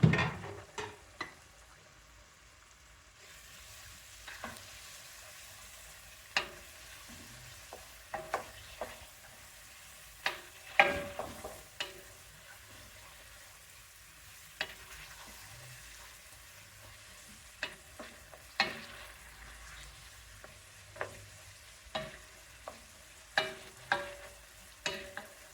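Tomato paste being stirred in a pan for masala rice with soy pieces, a quiet low sizzle under irregular clicks and scrapes of a spoon against the pan, spread over about half a minute with no talk.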